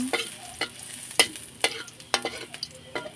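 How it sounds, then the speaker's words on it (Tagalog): Garlic sautéing in hot oil in a pan, with a steady close sizzle punctuated by several sharp scraping stirs of a utensil against the pan. "Igisa ko na yung bawang."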